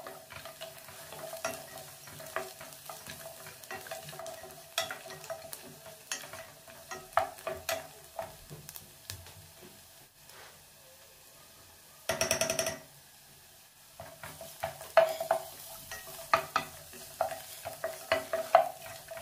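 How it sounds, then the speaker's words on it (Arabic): Minced onion and garlic being stirred in a pot over low heat: a soft steady sizzle under repeated light scraping and clicking strokes, with one louder, denser burst of stirring partway through. "بنقلب تمام على نار هادئة حتى ما ينحرق البصل والثوم"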